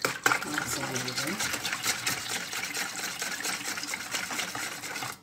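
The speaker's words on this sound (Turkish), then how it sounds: "Önce bunları şöyle bir karıştırıcıyla çırpıp iyice birbirlerine geçmesini sağlayacağım." An electric mixer whirs steadily in a bowl as it whisks ingredients for Maraş Ramadan holiday çörek buns, a continuous buzzing churn with faint liquid sloshing, heard from close by and interrupted briefly by voices.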